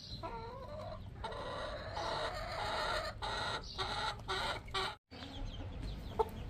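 Growing chicks, their adult feathers coming in, peep and cluck in bursts among other fowl, near and fairly loud, with a short silent gap partway through.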